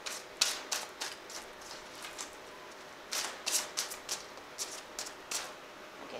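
Fairy tarot cards shuffled by hand in quick bursts of crisp flicking and tapping, close but quiet, pausing briefly midway before more shuffles.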